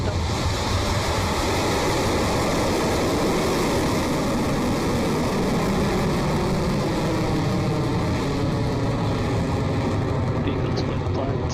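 Rocket Lab rocket liftoff with a loud, continuous broadband roar that holds steady, rumbling and hissing like heavy surf throughout.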